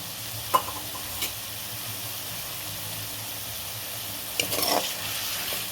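Fenugreek leaf chutney fries in a pan, releasing water and giving a constant close sizzle, while a utensil scrapes through it in a few short stirring strokes.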